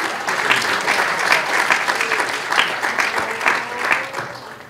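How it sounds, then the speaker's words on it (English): An audience at a hackathon demo event gives a round of applause, continuous dense clapping from many people at fairly close range, swelling slightly in waves before tapering. "So give yourselves a big round of applause for that."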